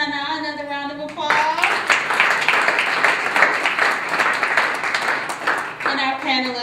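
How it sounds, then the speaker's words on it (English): An audience at a panel event breaks into a burst of clapping that lasts several seconds, loud and close, with a voice speaking just before and right after it. "another round of applause."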